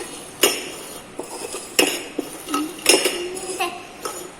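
Plastic cups are slid and knocked around on a table as they are mixed, giving a series of sharp clacks and clinks at irregular intervals, with some quiet talk in the background.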